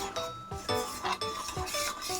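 A spoon stirs two spoons of custard powder in a bowl to work out lumps, making quick repeated close scraping and rubbing strokes in an even rhythm with faint clinks against the bowl.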